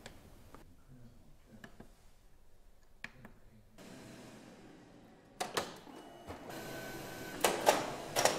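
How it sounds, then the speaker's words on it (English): A Canon iPF815 large-format plotter unloads its media roll at the press of a panel button: scattered clicks and ticks, then a motorised whirr as the roll rewinds, with sharper mechanical clunks near the end. "Unload the media by pushing a button on the operator panel."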